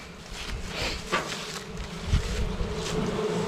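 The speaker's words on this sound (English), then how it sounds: "All right, y'all, bees from last night." Bees held inside a bee vacuum after an infestation removal give off a steady, soft, low buzzing hum that rises and falls slightly, with no voices.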